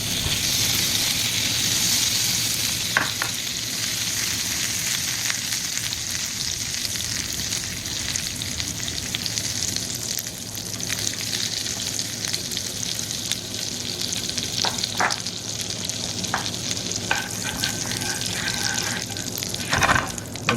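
Steady, dense sizzling of butter melting in a hot pan to start a roux sauce continues throughout, with a few faint clinks of utensils near the end; no talking.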